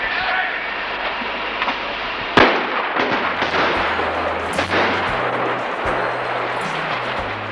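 Loud explosions boom and crackle, one sharp blast standing out among a dense barrage of bangs and rumbling over a constant low drone.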